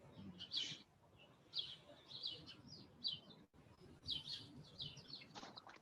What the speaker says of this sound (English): There's definitely abundance of birds in my backyard.